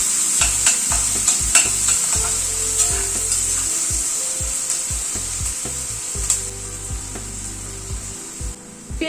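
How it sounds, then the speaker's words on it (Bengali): Two medium chopped onions frying over a medium gas flame, stirred steadily with a spatula that scrapes and knocks against the pan in an irregular rhythm over a constant close sizzle. "পেঁয়াজটাকে জাস্ট একটু মিনিট খানেক মতো একটু নাড়াচাড়া করে নিলাম"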